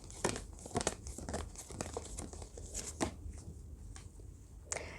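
Tarot cards being drawn and spread from a deck, a run of crisp papery flicks and rustles with slaps of card on card, close and steady throughout.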